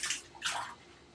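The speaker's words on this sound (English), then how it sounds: "we're going to start by adding 500 grams of hot water" Hot water poured into a siphon pot for brewing coffee, a short close splashing pour in two bursts, fairly quiet.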